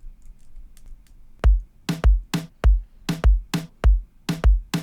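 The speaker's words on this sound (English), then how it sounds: "we're going to have a snare that hits on the 3rd 16th note and the 6th 16th note" Reggaeton drum beat: a few soft taps open it, then punchy kick and snare hits repeat in a steady syncopated pattern, with the snare landing on the third and sixth sixteenth notes, loud and alone.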